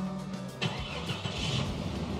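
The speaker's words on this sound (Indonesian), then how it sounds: "Kita nyalain dulu kali mobilnya." A Jeep Cherokee Overland with a Borla exhaust tip cranks over and catches, the starter whir giving way to a steady, fairly quiet engine rumble close by.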